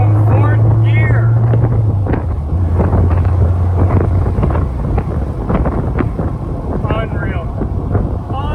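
A Dodge Viper V10 pulls hard from fourth gear, a loud, steady low engine drone with heavy wind buffeting over the whole stretch, a rising tone early on and intermittent speech-like sounds throughout.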